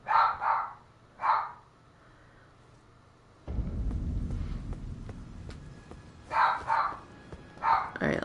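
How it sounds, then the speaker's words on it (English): Barks from a pet dog sound in short bursts, a pair at the start and another near the one-second mark, then a rumbling low noise, then more paired barks toward the end, fairly close by. "My dog's mad, I guess."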